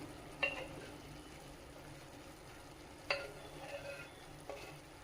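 Masala for a paneer and peas curry sautés in a pan with a quiet, continuous sizzle, broken by a few sharp spatula clinks against the metal.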